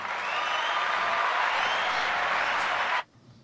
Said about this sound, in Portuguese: Uma salva de palmas para a doutora Manu.